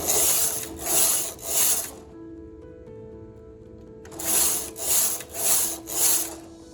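A Brother knitting machine carriage sliding across the needle bed to knit rows, three rasping passes, a pause with a faint hum, then four more passes in a steady back-and-forth rhythm, close and fairly loud.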